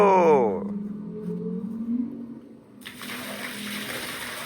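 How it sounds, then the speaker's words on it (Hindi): An electric water pump motor starts outdoors and water soon gushes out of the pipe, a steady rushing flow that comes in strongly partway through over a continuous low hum. "चलो भाई चल गई है जी मोटर और अभी आ जाएगा पानी बाहर।"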